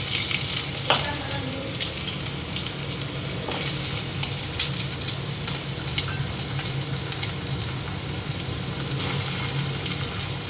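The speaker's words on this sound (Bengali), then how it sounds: "আলুগুলো একটু হালকা করে ভেজে নেব" Potato pieces frying lightly in hot oil with ginger paste, a constant close sizzle broken by occasional sharp clicks and stirring scrapes, no speech.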